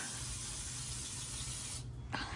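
A continuous aerosol spray hisses loudly on the left rear brakes of a 1959 Ford Fairlane, pauses briefly near the end, then sprays again.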